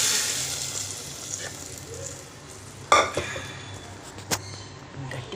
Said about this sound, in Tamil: நெக்ஸ்ட்டு பாருங்கள் தாளிப்பு கொடுத்தாச்சு. அதில் பெருங்காயம் போட்டோம்.